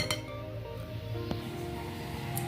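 A plate clinks as it is set down over a bowl of milk-based pitha batter, a sharp ceramic chink followed by a few lighter ringing taps and a final small clink, close and clear.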